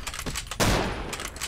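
Gunfire in Fallout: New Vegas, modded, inside a schoolhouse: a loud burst of overlapping shots erupts midway, preceded by lighter clatter, with the reverberant blast tailing off to the end.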